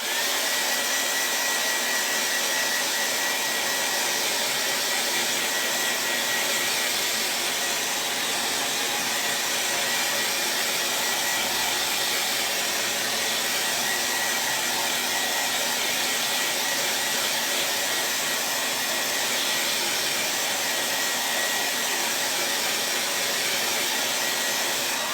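A hair dryer runs nonstop at full blast on a painted craft bunny, a loud, even whooshing roar that holds steady for about twenty-five seconds with no talk.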